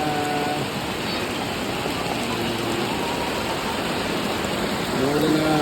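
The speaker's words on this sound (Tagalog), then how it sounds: "Umuulan na mga paro." Steady rain falls in the mountains with a dense hiss, close and continuous, with faint voices and a low hum in the background.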